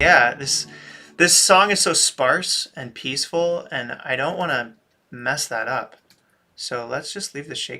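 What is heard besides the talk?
No distinct noise like a dog, phone or traffic.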